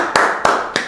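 Three sharp, evenly spaced hand claps in a classroom, close and loud, each followed by a short ring of the room.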